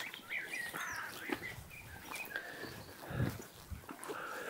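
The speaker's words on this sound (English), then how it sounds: "The birds are everywhere." Birds calling across a French market garden farm, chirps and short song phrases scattered throughout at moderate distance over a steady outdoor background, with a few low thumps and faint farm-animal sounds mixed in.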